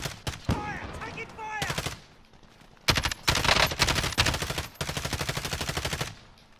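Automatic gunfire in a first-person shooter video game, loud rapid bursts of close shots with short pauses between them, and a voice talking briefly at the start.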